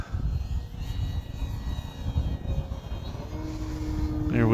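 An Arrows Husky Ultimate RC model airplane flies an outside loop on a chilly day, its engine droning at a distance with a pitch that rises and falls through the maneuver, growing louder toward the end.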